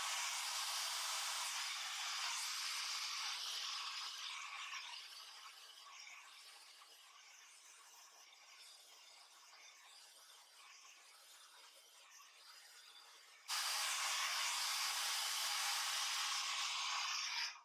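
A hair dryer blows steadily on medium-length hair during a salon-style volumizing blowout, a loud airy hiss that softens midway as the airflow drops or moves away, then surges back to full strength near the end, with no talking.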